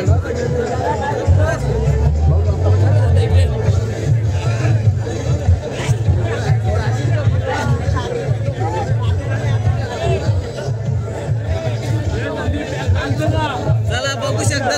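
Dense babble of a large crowd chattering at a major palanquin pilgrimage procession on its third day in 2024, a loud continuous hubbub of many overlapping voices close around, with no single speaker standing out.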